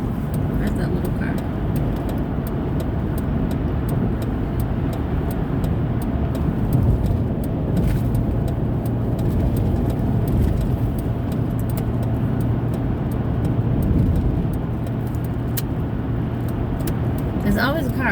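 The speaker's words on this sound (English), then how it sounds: "There's always a car right next to me flying up the way." Cars speed up a street alongside the driver, a steady road rumble and engine drone with passing swells, heard from inside a moving vehicle over continuous low road noise.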